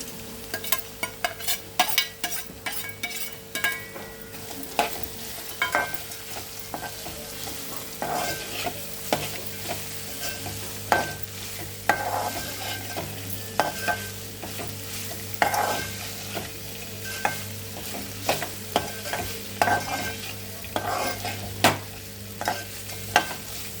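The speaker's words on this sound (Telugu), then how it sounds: "ఇందాక మనం వేయించి పెట్టుకున్న రొయ్యలు వేసుకోవాలి" Pre-fried prawns tossed in a hot pan for a prawn and cucumber curry, with steady sizzling and repeated scraping, clacking strokes of a spatula close up, no talking.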